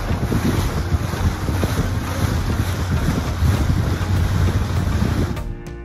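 Constant rushing wind and water noise with a low engine rumble from a small motorboat crossing a lake, loud and buffeting.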